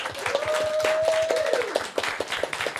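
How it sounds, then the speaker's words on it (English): A church audience at a Sunday gathering claps steadily for the production team and band. The applause is moderately loud and continuous, and a sustained musical tone from the band rings underneath. "And that applause is well-deserved"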